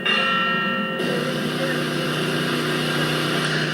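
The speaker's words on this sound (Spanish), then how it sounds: "las campanas de la catedral repicaron, llamando a levantarse de nuevo" Cathedral church bells ring out in a sustained, loud peal that blends into a continuous wash of tones, while a voice speaks over it.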